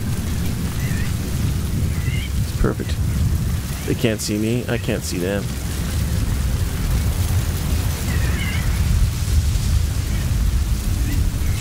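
Storm in Metal Gear Solid V, with steady heavy rain hiss and low rumbling thunder filling the scene, while someone talks over it and brief game chirps and bird-like calls sound in the background.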